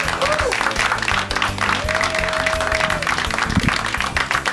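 A live studio audience at a community media center comedy show applauds and cheers loudly and steadily throughout, with music playing underneath.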